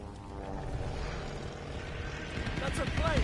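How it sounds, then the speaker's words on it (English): A warplane engine in the shooter game Call of Duty: Vanguard drones overhead, rumbling low and steadily louder as it draws closer toward the end. "That's a plane"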